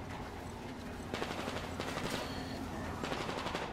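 Bursts of rapid automatic gunfire in the video game Metro Exodus crackle in quick succession, with brief pauses between volleys, against a steady background hum.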